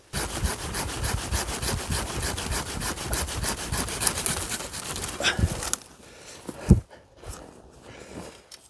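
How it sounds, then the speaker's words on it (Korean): A hand saw rasps through a tree branch during pruning in fast, rhythmic back-and-forth strokes for several seconds, then stops, followed by a thud and quiet rustling. "가지 하나를 좀 쳐내겠습니다"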